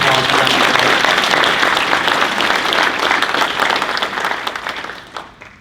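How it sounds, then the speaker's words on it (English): Loud, dense applause from an audience at an awards banquet, a full wash of clapping that holds steady and then tapers away over the last second. "So can we give a round of applause for that?"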